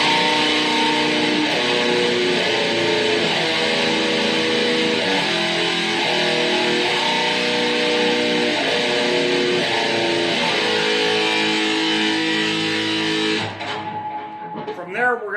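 A distorted electric guitar plays a chugging thrash metal riff on barred chords, with steady repeated harmonic patterns that shift position, loud and alone until it cuts off near the end.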